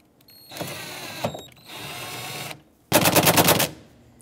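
A power tool, likely an impact wrench, tightens the mirror mounting nuts on a 2014-2021 Mazda 6: two sustained whirring runs, then a loud, rapid hammering burst as the nut bottoms out, close up.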